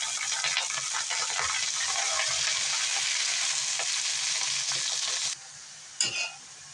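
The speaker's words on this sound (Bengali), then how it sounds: "এবার আমি শাকটা দিয়ে দেবো।" Chopped greens (chhanchi shak) hit browned onions and chopped chilli in a hot pan, giving a loud, dense, steady sizzle that cuts off sharply near the end, followed by a brief clatter.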